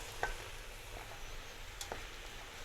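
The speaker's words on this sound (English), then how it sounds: "So we'll saute them a little bit." Mushrooms sauté in a pan for spaghetti sauce with a faint, steady sizzle, broken by a few soft clicks of stirring.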